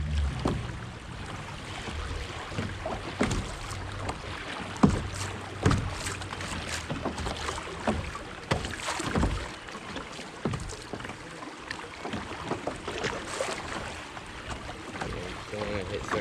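Kayak paddling through a stretch of bumpy river rapids, with a steady rush of moving water and scattered splashes and knocks against the hull throughout.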